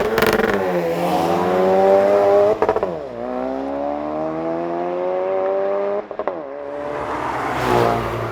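A 2017 Volkswagen Golf R launches hard from redline, its engine revving loud and climbing through rising pitch with two sharp gear-change breaks, close and continuous.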